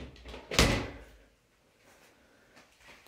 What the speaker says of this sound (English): See, closet doors.